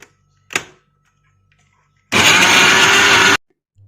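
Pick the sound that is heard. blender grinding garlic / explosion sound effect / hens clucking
blender grinding garlic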